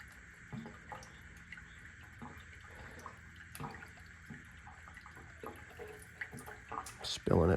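Fuel poured one-handed from a 2-liter bottle into the feed line of a belt-drive gravity fuel setup, a quiet, uneven trickle with scattered drips and splashes, swelling to a louder gush at the very end.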